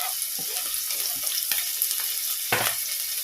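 Onion, green chilli and ginger sautéing in a pan for an okra milk curry, a steady close sizzle broken by a few sharp stirring scrapes, with one louder clatter near the end.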